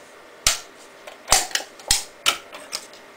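Metal snips cutting around a tin can to free its top while building a tin can Stirling engine: five or six sharp, loud snipping cracks at irregular intervals, close by, with no talking.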